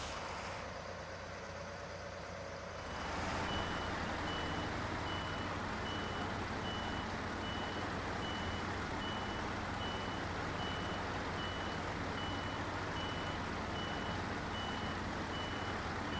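Truck reversing beeps in the video game SnowRunner, a steady evenly spaced series of backup alarm tones over a constant engine drone, continuing throughout.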